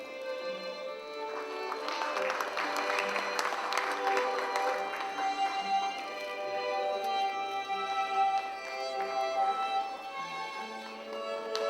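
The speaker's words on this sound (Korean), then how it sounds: "열세분께 다시 한번 축하의 박수를 보내주시기 바랍니다." Sustained audience applause at a school's 89th anniversary ceremony, given for award recipients: dense clapping from a crowd, steady and fairly loud for about twelve seconds.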